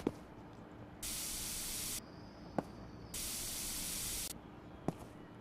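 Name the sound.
deodorizing spray being sprayed in a video game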